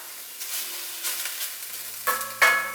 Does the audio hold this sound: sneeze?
no